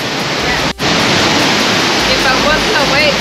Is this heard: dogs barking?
no